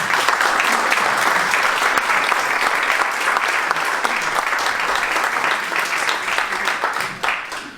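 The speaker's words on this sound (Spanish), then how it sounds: "os pido recibáis con un fuerte aplauso" Hearty audience applause at a public talk on Spanish-language education welcomes a speaker, sustained and even for several seconds before thinning out at the end.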